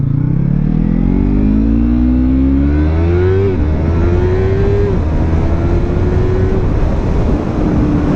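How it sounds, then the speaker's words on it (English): A 2017 Yamaha MT-03 motorcycle engine revs up through rising pitch sweeps, shifting gears several times as it accelerates, loud and close with steady wind noise throughout. "The acceleration on this bike is still like, it's still fun"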